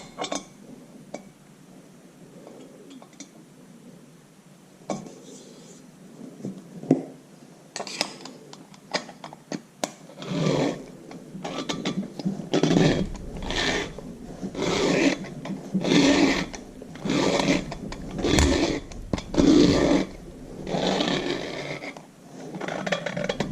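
A hand-turned valve seat cutter grinds a seat in a Farmall Super MTA tractor engine head, starting with light scattered scrapes and clinks, then settling into close, loud rhythmic rasping strokes of metal on metal.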